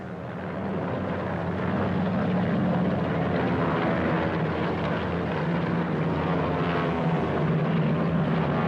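Steady, loud propeller engine drone of aircraft flying overhead, as in Battle of Britain aerial warfare. The low rumble fills the whole stretch continuously with no voices.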